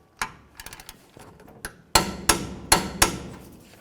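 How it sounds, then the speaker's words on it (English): A torque wrench on a 1999-2013 Chevy Silverado's caliper mounting bolts gives a series of sharp metallic clicks, light ones at first and then four loud, evenly spaced snaps, close by. "We got our torque wrench."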